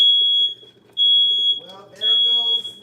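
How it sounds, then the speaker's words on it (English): A kitchen smoke alarm shrills while breakfast toast burns, sounding three long piercing beeps separated by short gaps, with a person talking during the later beeps. "Well, there goes the alarm."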